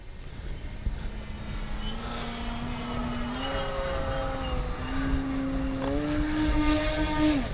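An Avios Grand Tundra RC plane flying aerobatics such as loops outdoors, its propeller engine droning steadily and shifting in pitch as it climbs and turns, moderately near and continuous with no talk.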